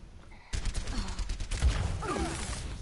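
Rapid gunfire in a shooting video game, a dense burst of repeated shots starting abruptly and running on loudly, with whooshing effects behind.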